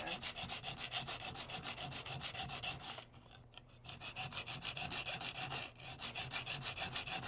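A knife spine is ground on a 140 grit diamond stone in steady, rhythmic back-and-forth rasping strokes, close and continuous, with a brief pause midway and no talk.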